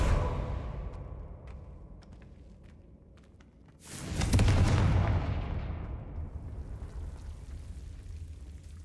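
A Confringo blast spell explodes in Hogwarts Legacy, a sudden loud broadband burst that swells and then trails off in a long rumbling decay after quieter ambience.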